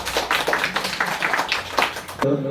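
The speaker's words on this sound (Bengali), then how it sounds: "সবাই একটা হাততালি।" An audience at a Rabindra Jayanti celebration claps together in a steady, dense burst of applause for about two seconds, close and lively, ending abruptly.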